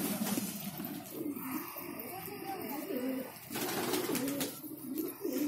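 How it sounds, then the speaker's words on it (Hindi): Pigeons coo repeatedly in low, throaty bursts close by, while someone talks over them and chirps flicker in the background. "अल्ताफ भाई टोटल मिला के कितने कबूतर होंगे आपके पास?"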